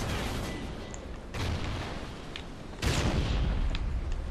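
Submachine gun fire in Call of Duty Ghosts multiplayer, a dense, continuous wash of gunfire and booms with bursts intensifying near the end, loud and sustained without speech.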